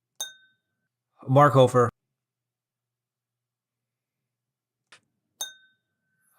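Glasses clinking in a toast, a bright single ring at the start and another near the end, separated by a brief spoken name and a long silence.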